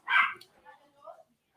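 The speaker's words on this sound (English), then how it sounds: "I'll just let him bark for a minute." A dog barks loudly once at a delivery person at the door, then lighter yips and whimpering sounds follow, with a faint voice in the background.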